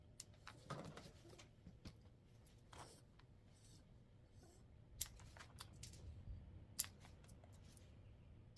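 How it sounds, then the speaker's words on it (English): Scissors snip hair between the toes of a Pomeranian mix's feet, producing faint, scattered clicks and crisp cuts at close range in a quiet room. "I'm trimming up his feet and I'm trimming up between his toes too."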